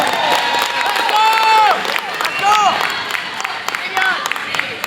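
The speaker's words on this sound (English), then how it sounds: "The crowd rumbling away." A high school boys varsity basketball crowd in a gym against Kingston cheers, shouts and applauds after a free throw late in the fourth quarter, a loud continuous roar with surging yells and whistles.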